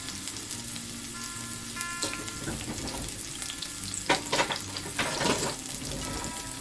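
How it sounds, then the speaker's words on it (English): Onion drops into hot oil and fries with a steady crackling sizzle. Louder stirring bursts follow near the end, close up and without speech. "So I'll drop, the oil is hot. I'll drop in the onion. Give that a little stir."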